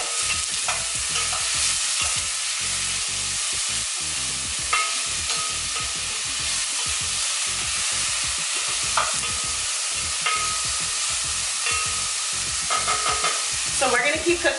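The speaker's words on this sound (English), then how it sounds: "So I can already tell from how much sizzling I'm getting" Chopped onions sizzling loudly in an overly hot pan while being stirred, a continuous bright frying hiss broken by scraping stirs, close and without speech.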